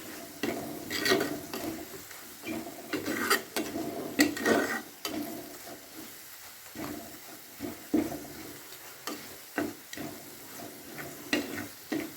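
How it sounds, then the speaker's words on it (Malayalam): Spice powders frying in a pan for an egg dish while being stirred, bursts of scraping and sizzling in uneven strokes with short pauses between, moderately quiet and close, no speech. "പൊടിയൊക്കെ ഇട്ട് കഴിഞ്ഞാൽ നന്നായിട്ട് ഇളക്കിക്കൊണ്ടിരിക്കണം"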